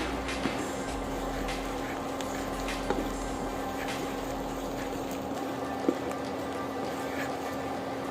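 Cumin seeds and dried red chillies sizzle in hot mustard oil, a steady soft frying hiss with a few faint crackles, held at an even moderate level throughout.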